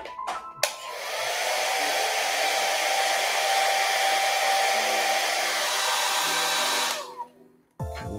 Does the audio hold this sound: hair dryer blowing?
yes